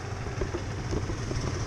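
A Quantum RS engine, previously failing to start, idles steadily just after starting, a close, continuous low rumble with a slightly uneven mechanical chatter and no talk.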